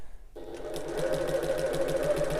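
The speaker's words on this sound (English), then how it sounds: "I'm sewing at 1/8 of an inch or 3mm away from the edge" A sewing machine stitching fabric pieces of a wallet runs at a steady, rapid rhythm after a brief quiet start, with an even mechanical whir close up.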